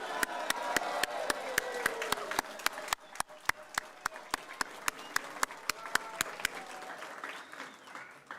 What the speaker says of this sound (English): Congratulations to all in one loud, super loud cheer and clap,